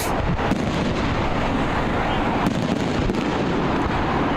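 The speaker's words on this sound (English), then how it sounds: "This has to be the longest fireworks display I've ever seen in my life as well," Fireworks going off during a college soccer match, a dense continuous rumble of bursts and crackle filling the background without clear individual pops, steady and fairly loud throughout.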